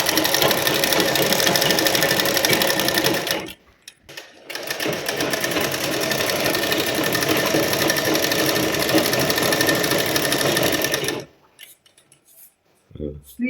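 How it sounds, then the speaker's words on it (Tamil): A sewing machine stitching cloth runs loud and steady in a home, stopping briefly around the fourth second, then whirring again before halting near the end. "நானே துணி தைக்கிறதுக்கு போறேன்."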